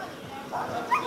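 A dog in an obedience training session gives short whimpering yips and a brief bark, close by and moderately loud, with a person speaking over the sounds.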